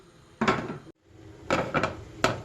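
A pan holding oil and chopped onion set down on the stove, heard as a few close metallic clunks and scrapes separated by short pauses.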